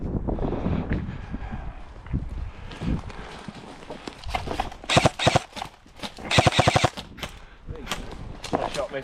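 Airsoft guns fire in bursts of rapid, sharp shots at an Anzio camp skirmish, with rattling volleys clustered mid-way and near the end over outdoor background noise.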